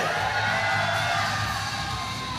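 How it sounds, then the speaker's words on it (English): At a powerlifting meet, a packed crowd roars with whoops and yells, loud and continuous across the whole short stretch. "The crowd on their feet, chants of Pena."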